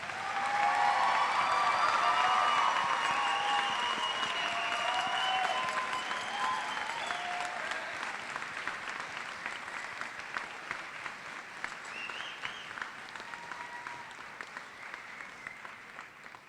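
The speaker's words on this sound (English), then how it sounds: "give them one final round of applause" A graduation audience at the Utica Academy for International Studies commencement gives a long, full round of applause with scattered cheers, loud at first and slowly tapering off.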